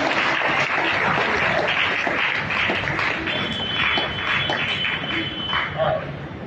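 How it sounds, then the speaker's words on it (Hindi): A church congregation claps together in a sustained, dense burst of applause that fills the hall at steady loudness, with a faint voice audible beneath the clapping. "एक बार और जोरदार ताली बजाएं"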